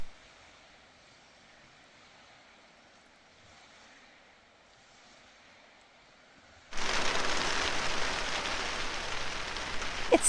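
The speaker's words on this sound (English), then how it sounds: "It started raining out of nowhere." A quiet, low hum gives way abruptly to a loud, steady hiss of heavy rain suddenly pouring down for the last few seconds, at a truck campsite in rural Finland.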